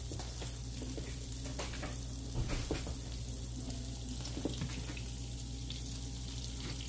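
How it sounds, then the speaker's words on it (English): Potato cakes fry in hot oil in a shallow pan, giving a continuous, even sizzle and crackle with a few small pops and no talking. "I need every last one of these cooking in this oil."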